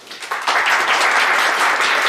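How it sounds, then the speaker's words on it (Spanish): An audience bursts into a big round of applause at a panel on cultural journalism, rising after a quieter opening and then holding steady and loud. "Es un gran aplauso."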